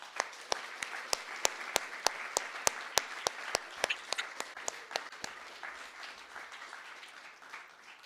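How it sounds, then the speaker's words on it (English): A small audience at a salon music concert gives a round of applause, with sharp, evenly spaced claps standing out at first, then thinning to a soft patter as it dies away. "Let's give them a huge round of applause."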